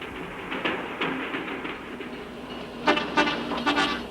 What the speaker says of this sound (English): the caravan pauses to let the descending train pass.